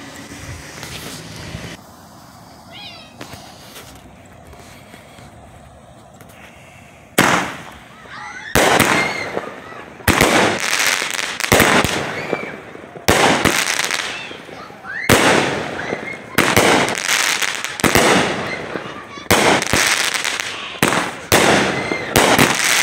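A Phantom Death Alert 12-shot firework cake going off outdoors, with a quiet lead-in followed by a series of loud, sharp bursts at roughly one- to two-second intervals, each trailing into crackle.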